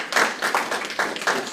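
Applause at a funeral service, a small crowd clapping in an uneven patter with bursts swelling and easing in waves, fairly close and loud, without talk.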